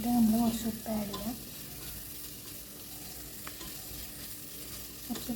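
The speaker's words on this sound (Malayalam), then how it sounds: "ഗോൾഡൻ ബ്രൗൺ കളറാകുന്നത് വരെ ഒന്ന് വഴറ്റിയെടുക്കണം" Onions being sautéed with salt in a pan for prawn biriyani: a steady soft sizzle with scraping stirring strokes, louder at the start and then settling into a continuous low frying hiss.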